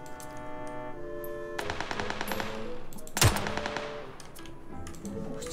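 Rapid machine-gun bursts in a video game, crisp repeated shots rattling over a steady background, with one sharper loud blast in the middle, no speech.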